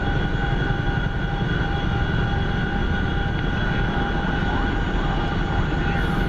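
Chinook helicopter in a combat video game, a steady droning rotor and engine roar that stays constant and fairly loud throughout.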